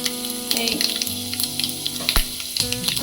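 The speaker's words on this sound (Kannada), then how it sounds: "ಸಾಸಿವೆ ಚೆನ್ನಾಗಿ ಸಿಡಿದ ಮೇಲೆ ಈಗ ಉದ್ದಿನಬೇಳೆ ಕಡಲೆಬೇಳೆ ಹಾಕ್ತಾಯಿದ್ದೀನಿ" Urad dal and chana dal sizzle in hot oil with popped mustard seeds for raw mango chitranna, a steady, close frying hiss with scattered small pops and crackles.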